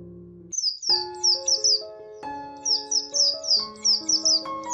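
Birds chirp at dusk in quick, bright repeated bursts of high tweets, loud and close, over a steady sustained musical backdrop with no talking.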